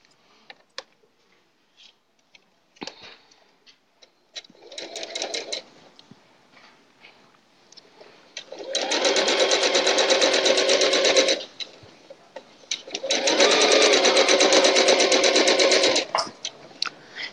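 Sewing machine piecing quilt blocks for a houndstooth quilt: after a few light clicks and a short run, two long steady stitching runs whir loudly with a pause between.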